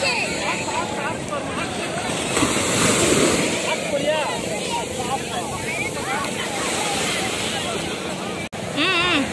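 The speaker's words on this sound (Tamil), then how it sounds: "அலை வந்து பார்த்திங்கன்னா ரொம்ப பெரிய பெருசாக வந்தது." Large ocean waves roll in at Marina Beach, a continuous loud surf roar with wind buffeting the microphone, and people talk over it throughout.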